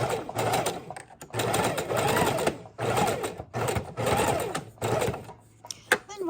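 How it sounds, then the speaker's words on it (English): A sewing machine stitching a mini junk journal runs in several loud, close bursts of rapid mechanical whirring, broken by brief pauses between runs. "You can needle down, flip it, lock in a couple more stitches."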